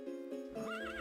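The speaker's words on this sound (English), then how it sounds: "Let's get on our horse," Horse sounds from the video game Daggerfall, with clip-clop hooves and a neigh or whinny rising near the end, heard alone and fairly close.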